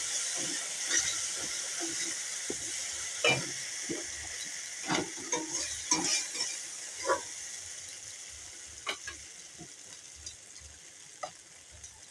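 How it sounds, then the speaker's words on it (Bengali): Poppy seed paste with sugar sizzling in a hot pan, a constant bright hiss under repeated scraping knocks of stirring, close and fairly loud without talk. "বেটে রাখা পোস্ত বাটাটা দিয়ে দিলাম"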